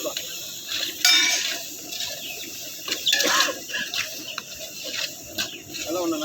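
A pot of country chicken curry is stirred outdoors in a mango grove, giving a run of scraping and clinking ladle strokes against the metal with a few sharper knocks, over a steady bed of insects and birds.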